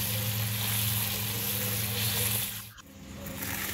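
Korma masala fries in a pot with a continuous dense sizzle, loud and close, briefly dipping near the end as it is stirred before the hiss picks up again.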